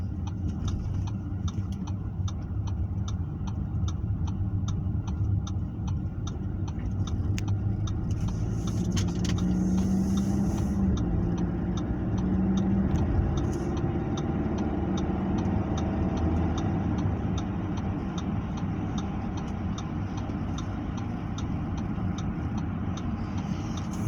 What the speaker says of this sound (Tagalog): Buhol-buhol na traffic.